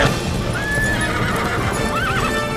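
Horses in the animated film Tangled let out loud, close whinnies over a rhythmic clip-clop of hooves, with a wavering neigh near the end.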